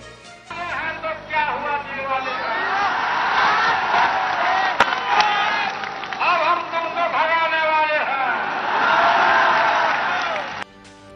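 At a political rally in Bihar, a large crowd claps and cheers steadily beneath someone narrator's voice, the applause swelling and holding across the span.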